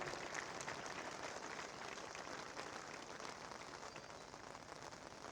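A crowd applauds steadily at a CRPF passing out parade in Gwalior, a dense, even hiss of many hands clapping that holds without a break and sounds fairly distant.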